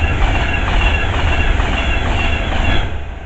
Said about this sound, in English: passing through there's a Avanti 390 coming by